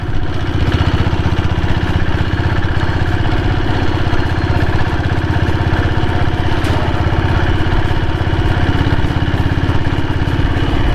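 1998 diesel Royal Enfield Bullet motorcycle engine idling on its own, a loud, close, steady rapid thumping chug that holds an even rhythm for the whole stretch with no voices.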